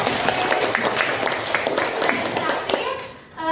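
A classroom group clapping together after a peer-teaching lesson, brisk, close clapping with voices chattering over it.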